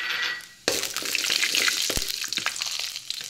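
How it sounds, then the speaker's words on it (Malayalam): Mustard seeds, dried red chillies and urad dal hit hot oil with a sudden crackling burst. A dense, close, loud sizzle with scattered pops follows and keeps going to the end, with no voices. "ഇതിലോട്ട് നമുക്ക് കുറച്ച് കടുക് ഇട്ട് കൊടുക്കാം, രണ്ട് വറ്റൽമുളക് ഇട്ട് കൊടുക്കാം. ഇപ്പോൾ കുറച്ച് ഉഴുന്നുപരിപ്പ് കൂടെ ചേർത്ത് കൊടുക്കാം."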